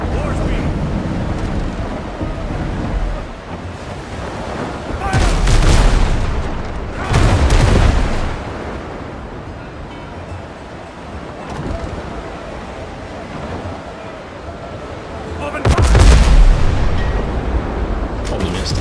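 Ship cannon fire striking another ship in the pirate sailing game Windrose, several heavy booms rolling out at intervals over a steady wash of sea and wind, with a voice talking between shots.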